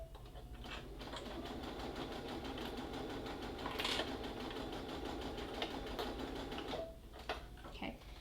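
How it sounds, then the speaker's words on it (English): A sewing machine back stitches the seam of a fabric Halloween bucket, running steadily and fairly close with a continuous whir and rapid needle clatter for about seven seconds, then pausing briefly before a few more stitches. "We're going to back stitch right here to make sure it locks it in."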